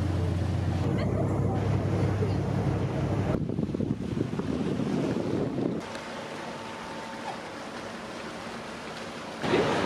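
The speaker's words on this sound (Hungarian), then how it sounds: "a hajó visszaérkezik Vallettára" A boat cruising along the Maltese coast back toward Valletta on a winter day: a steady low rumble of engine and water, heavily buffeted by wind noise on the microphone, with a continuous wash that eases slightly toward the end.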